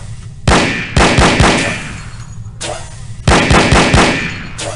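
Loud, punchy gunfire from a firearm training session in No One Lives Forever, with two clusters of rapid close shots, each a sharp opening blast followed by quick repeated reports and a decaying echo.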